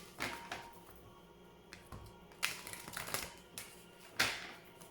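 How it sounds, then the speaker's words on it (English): Oracle cards being shuffled by hand: close, soft papery riffles and slaps in irregular bursts, with quiet pauses between them. "Please think of your question as I shuffle the cards."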